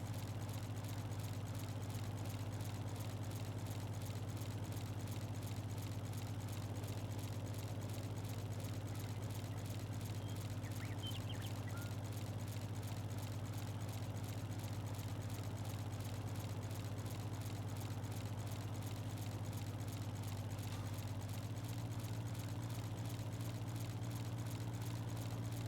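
A tractor engine drones steadily while mowing grass around an equipment shed on a farm, a constant low hum throughout, fairly faint and without talk.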